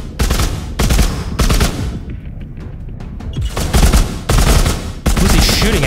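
Gunfire from military-grade weapons in the Walking Dead VR video game: loud repeated bursts of automatic shots in several clusters, separated by short quieter pauses with faint impacts.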